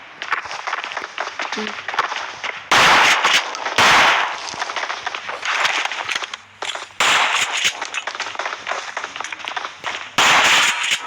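Loud sharp bangs like gunshots or firecrackers burst out several times, some in quick clusters, over a noisy outdoor background with a voice talking now and then.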